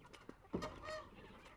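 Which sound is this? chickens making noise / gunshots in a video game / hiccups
chickens making noise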